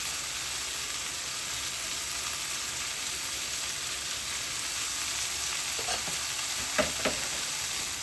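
Egg fried rice with onion, capsicum and bean sprouts crackles in a hot pan, a continuous close sizzle with a few scraping stirs of a utensil near the end.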